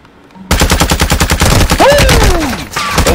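Rapid automatic gunfire in a video game, shooting through a window, a loud close burst of evenly spaced shots after a short quiet start, with a voice briefly heard under the firing.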